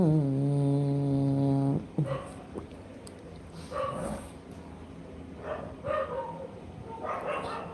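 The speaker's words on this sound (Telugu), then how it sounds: "ఏమి కుక్కలు అరుస్తున్నాయి" A long drawn-out dog whine, then several dogs barking irregularly at a moderate distance.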